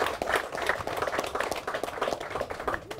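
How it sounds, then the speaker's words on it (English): Outdoor guests at the opening of a floating bar in Fiji clap in a loose, moderately loud round of applause, individual claps audible within the crowd sound. "that actually deserves a huge round of applause"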